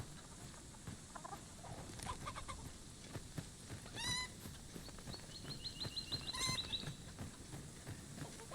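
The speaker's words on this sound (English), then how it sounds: "There are chickens" Chickens in the game Dragon's Dogma 2 cluck and chirp faintly in short scattered bursts. Soft pattering ambience and a few quick trills sit beneath them.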